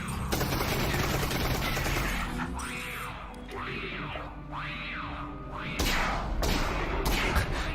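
Video game gunfire from a PC Games Show 2022 demo crackles in dense bursts with sweeping whooshing effects, fading briefly mid-clip before a loud burst returns.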